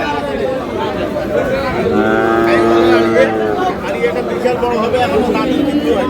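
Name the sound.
cattle, bulls at a market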